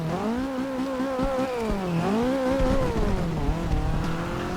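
A BMW M3 from the 1990s in Forza Horizon 2 revs with a smooth, rising and falling engine note, up and down across several cycles, close and steady with no one talking.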